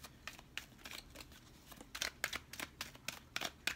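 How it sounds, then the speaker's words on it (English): Tarot cards riffle and slide against each other in quick soft bursts of rustling, a few separate rounds, quiet and close, with no talking. "we're going to shuffle 2 more times."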